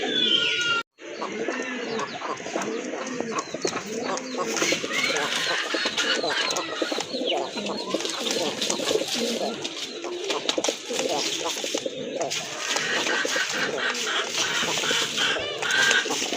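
A pair of Rajgolla pigeons with full markings coo repeatedly close by in a bird-selling setting, soft throaty calls continuing throughout with someone talking over them.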